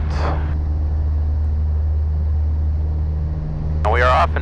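A Grumman Tiger light airplane's engine drones steadily during takeoff from Santa Ynez, a constant low cabin hum with a brief burst of radio-style talk near the end.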